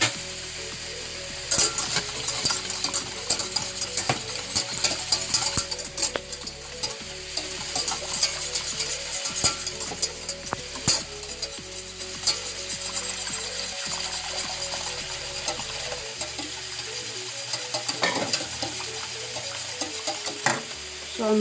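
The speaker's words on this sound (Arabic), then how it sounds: "نستعمل السوي باش نحركها مزيان" Minced meat and spinach for a cannelloni filling are stirred in a hot pan, with rhythmic scraping strokes over a steady sizzle and no talking.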